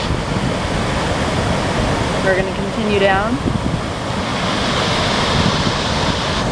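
A waterfall beside a hiking trail gives off a steady, even rush of falling water, with someone speaking briefly over the constant roar.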